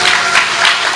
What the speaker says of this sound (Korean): 사랑한다고 박수 한 번 주셔.